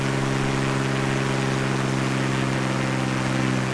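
Aircraft engine in Microsoft Flight Simulator during a landing approach with flaps and gear down, a steady loud droning hum with strong tonal bands, holding evenly throughout with no talk.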